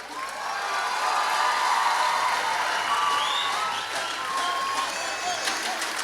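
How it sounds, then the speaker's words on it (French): An audience at a closing ceremony in Sept-Îles claps continuously for several seconds, a broad sustained wash of applause with faint crowd murmur beneath, swelling briefly near the middle before settling. "On les applaudit?"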